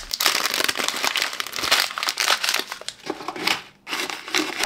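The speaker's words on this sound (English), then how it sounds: "You also want to unpack these plastic bags and place the desiccant packs back in the rear slot." Plastic bags from a Bambu Lab AMS 2 Pro filament unit being unpacked, crinkling and crumpling loudly and continuously up close, with one brief lull near the end.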